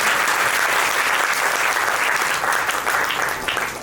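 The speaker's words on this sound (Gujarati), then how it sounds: "જોરદાર તાળીઓ થઈ જાય." An audience claps loudly after a short skit at the Navapur (Vankipada) satsang hall anniversary gathering. The dense, continuous applause fills the whole stretch without pause.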